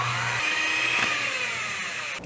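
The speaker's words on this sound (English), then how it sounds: "Scrape down the bowl and mix a little bit more." An electric mixer whirs steadily in a bowl of cream cheese, a continuous close motor drone with a slight shift in pitch as it works, running alone without talk.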